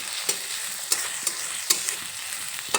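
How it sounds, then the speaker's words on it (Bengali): Chopped onion and slit green chillies frying in oil while being stirred, a steady bright sizzle with a few sharp scraping clicks of the spoon, close and alone without talk. "একটু নেড়ে চেড়ে নেব সব কিছু একসঙ্গে কিছুক্ষণ ভেজে নেব"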